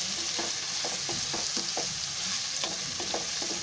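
Onions and potato pieces fry in a pan with a steady close sizzle while a spatula stirs them, scraping and tapping in an irregular rhythm, and no one speaks.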